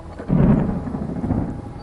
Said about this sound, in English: the roll of thunder somewhere to the east brought Gendro a smile of self-satisfaction